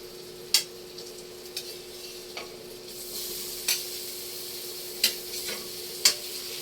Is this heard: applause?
no